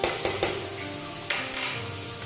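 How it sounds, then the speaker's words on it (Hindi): Crushed garlic stirred into browned onions frying in a pan for Punjabi-style rajma masala, a steady sizzle with a few clinking spoon scrapes against the pan. "इसे अच्छे से मिक्स कर देंगे प्याज के साथ में, और इसे भी थोड़ी देर तक भूनेंगे"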